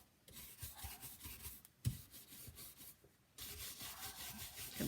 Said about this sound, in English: You hear the brush is hitting the Iron Orchid molds.